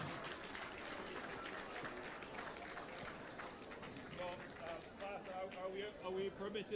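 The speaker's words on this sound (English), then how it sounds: "Let's give a big round of applause." Audience at a Jamaican diaspora forum in a Baptist church applauding the Prime Minister, a dense, steady wash of clapping at moderate distance with voices mixed in.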